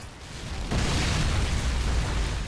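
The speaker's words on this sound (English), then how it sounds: "It's an AT4 that calls an attackable nuke." A nuke called in by an AT4 launcher in a Call of Duty: Modern Warfare 2 mod menu, a loud, broad video-game explosion that bursts in after a brief lull and roars on without fading.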